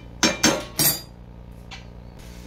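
Three loud metal-on-pan scrapes and clinks close together as cabbage curry with ghee is stirred in a pan, followed by quieter kitchen noise and a faint later clink.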